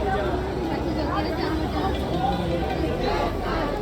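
Heavy crowd chatter fills a busy Siddhivinayak Ganpati temple in Mumbai on Janmashtami, a steady, close wash of many overlapping voices with no pauses.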